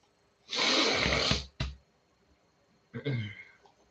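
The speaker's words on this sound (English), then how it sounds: "I got to clear my throat." A loud, rough throat-clearing burst followed by a short snort, then a pause and a second, shorter guttural clearing sound, close to the mic.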